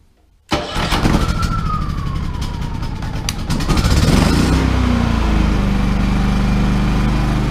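A Champion inverter generator engine cranks and catches after a short silence, revving briefly before settling into a loud, steady idle in economy mode, close by with no talking.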